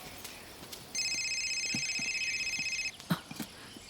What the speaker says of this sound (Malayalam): ആരാണ്ട് വിളിക്കുന്നു. അത് എന്റെ ഫോണാ.